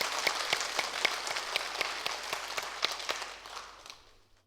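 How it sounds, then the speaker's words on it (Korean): A church congregation at a Sunday service claps together in a large room, sharp rhythmic claps over a dense wash of applause that gradually fades out at the end. "우리 다시 한번 감사와 격려의 박수 하겠습니다"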